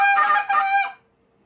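Goose call blown in a contest routine: a sharp spit note rolled into a double cluck and another spit note, loud, honking bursts in quick succession ending abruptly into silence.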